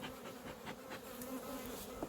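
Honey bees buzz steadily at an open hive on a damp day, a dense, droning hum that stays even and close throughout, with individual bees flitting past near the ear.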